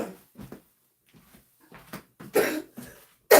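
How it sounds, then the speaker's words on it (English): A woman coughs several times in short, dry bursts separated by quiet pauses, the last cough loud and close, with faint handling noises between them. "going to get my energy up and make me cough a little bit more"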